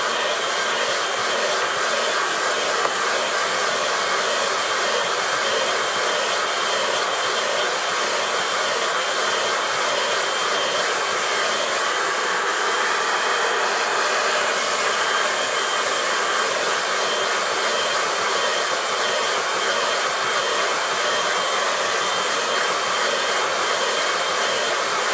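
A hair dryer blows over a watercolour landscape painting, a loud, constant whooshing hum running steadily throughout with no pauses or speech.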